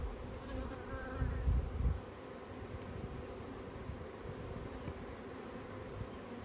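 A honeybee swarm buzzes steadily and close throughout, a dense droning hum with a brief louder burst near the start.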